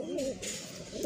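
Sky pigeons coo in a few soft, low, rolling calls, fairly close and on their own.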